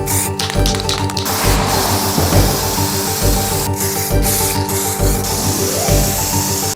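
Spray paint hissing onto Honda Integra rear suspension parts in a garage, a steady close spray with short pauses and faint rubbing and handling noises.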